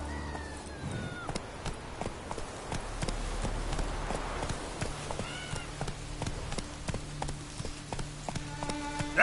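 Roach, a horse in The Witcher 3, moving at pace: steady clip-clop hoofbeats in a quick, regular rhythm, moderately close and fairly quiet, with no talk over them.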